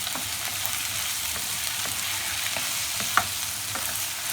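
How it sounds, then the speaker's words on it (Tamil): Tomatoes sauté with onion and garlic in a pan, giving an even, close sizzle with occasional soft stirring taps and one sharp clink. "இந்த தக்காளி கொஞ்சம் நல்லா வதங்கிடுச்சு"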